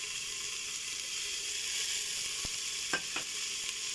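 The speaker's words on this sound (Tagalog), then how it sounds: "igisa ang bawang, sibuyas, at kamatis" Garlic, onion and tomato sautéing in cooking oil for pork sinigang, a steady close sizzle with a few sharp utensil clicks and scrapes near the end.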